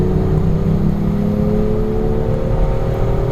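A BMW M2 being driven hard around Laguna Seca, its engine a loud, steady droning hum heard from inside the car, sustained without pause and without any talk.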